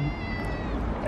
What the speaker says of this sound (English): There's another cat there.